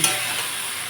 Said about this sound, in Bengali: এখন ভালোভাবে আমি মশলাটাকে ভালোভাবে কষিয়ে